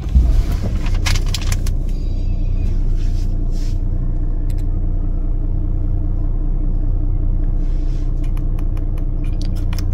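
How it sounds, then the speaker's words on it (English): A 2022 Toyota Land Cruiser 300 Sahara starts with a brief jangle and crank burst, then settles into a steady, low rumbling idle, close and continuous with faint clicks near the end. "start the car"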